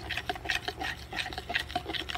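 A spoon stirring condensed milk into semi-set gelatin in a cup, giving soft rhythmic scraping and clinking strokes that repeat at a quick, even pace, close and fairly quiet with no talking.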